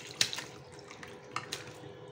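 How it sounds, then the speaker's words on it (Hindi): Water drips and splashes down from a frying pan during noodle cooking in a home kitchen, a few sharp droplet hits over a soft running trickle, close and fairly quiet. "देखा पानी नीचे गिरना शुरू हो गया."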